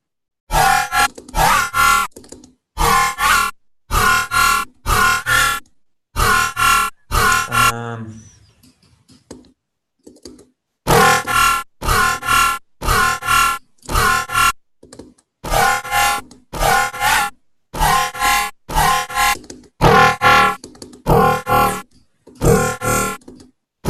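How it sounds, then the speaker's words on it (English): Synthesized growl bass sounds play as loud, distorted, rhythmic bursts in tight repeated groups, broken by a short pause midway before the pattern resumes. "I'm trying to come up with a bunch of growls that are completely different to the previous"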